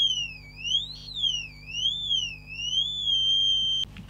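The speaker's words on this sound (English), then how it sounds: "I've just disconnected the buzzer that came with it" An electronic buzzer emits a shrill tone that rises and falls in a slow, wavering siren-like sweep, then holds steady before cutting off abruptly.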